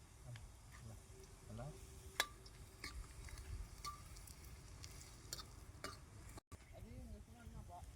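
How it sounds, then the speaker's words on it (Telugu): Onions fry in oil toward golden brown, a faint, low sizzle with scattered stirring clicks and scrapes, soft and fairly distant. "ఈ ఆనియన్ అయితే మంచిగా గోల్డెన్ కలర్ వచ్చేదాకా ఫ్రై చేసుకోవాలి."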